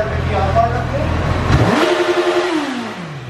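A Honda CB1000R motorcycle with its rev limiter cut, its engine revving hard and loud close by, climbing sharply in pitch to a high sustained scream before easing off, with a voice heard briefly beneath it.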